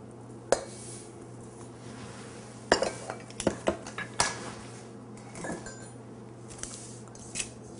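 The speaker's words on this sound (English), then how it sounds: "Then I just kind of mush those together" Vegetable shortening, butter and salt mashed together in a bowl for a pie crust, heard as a few sharp utensil clinks against the bowl with softer scraping between them, up close and without talk.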